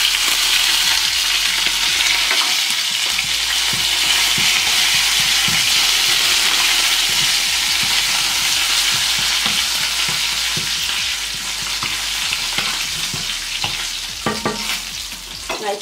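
Curry leaves, cumin and mustard seeds crackling in hot oil for a bitter gourd (karela) sabzi, a loud steady sizzle with frequent sharp pops and spatters that thin out slightly toward the end.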